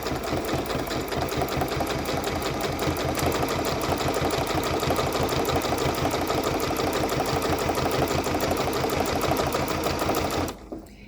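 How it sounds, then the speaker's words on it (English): A sewing machine stitches forward steadily on a blanket stitch binding, a fast, even mechanical chatter and hum running for about ten seconds before stopping abruptly. "And now I'm just going to stitch forward."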